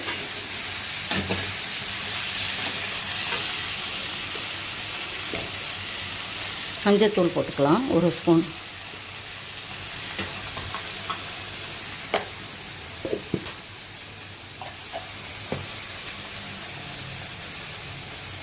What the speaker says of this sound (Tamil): ரெண்டு வரமிளகா போட்டிருக்கேன் இதையும் போட்டு நல்லா வதக்கிக்கிட்டு